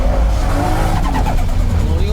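Loud race car engine pulling hard at full throttle, a JDM Toge Max machine of about 550 horsepower, with rising engine tones and some tire noise filling the whole clip while people talk over it.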